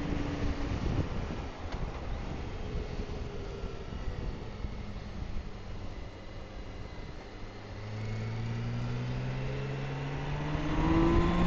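A K16 car accelerating on a drive through the Creuse Valley, engine noise building steadily over wind buffeting on the microphone and swelling louder toward the end, with no talk.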